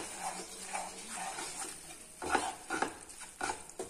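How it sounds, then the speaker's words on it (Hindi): A spoon stirs maida flour roasting in ghee over a very low flame for burfi. The stirring comes as repeated soft scraping strokes with a faint sizzle beneath, and a few louder, firmer scrapes come later. "और इसे अच्छे से चलाएंगे।"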